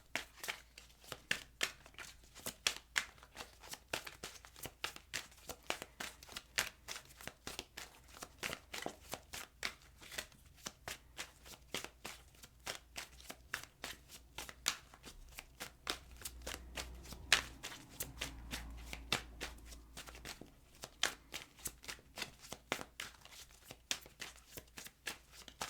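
Tarot cards are shuffled by hand in repeated quick riffles and soft slaps, close and crisp, with a brief murmur of low background sound partway through.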